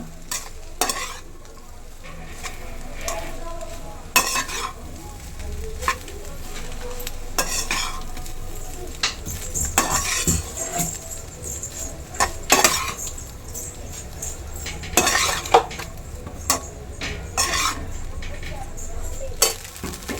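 Egg fried rice is tossed and stirred in a hot pan, with irregular metallic scrapes and clanks of the spatula over a continuous light sizzle, heard close up.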